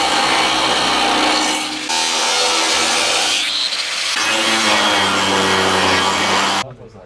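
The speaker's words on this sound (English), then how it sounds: "So I'm going to take those and go cut them out of some 1/4-inch plate" Quarter-inch steel plate being cut in a workshop during a Jeep Comanche pickup V8 swap, a loud, steady, harsh grinding noise that runs almost without a break for about seven seconds and then cuts off.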